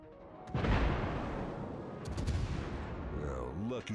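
Heavy HE shell salvos from the Tier VI British cruiser HMS Devonshire in World of Warships, a loud booming burst of naval gunfire with rumbling follow-through and a voice talking faintly near the end.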